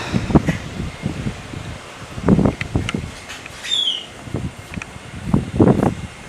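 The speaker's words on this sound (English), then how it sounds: "Let's get out of the wind." Wind gusts buffet the microphone outdoors during an afternoon of shorebirding, coming as loud low rumbling bursts over steady hiss, with a brief high bird call partway through.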